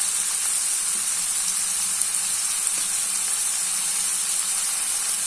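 Green pea pods frying in a pan give a steady, even sizzle and hiss throughout, close and constant with no talk.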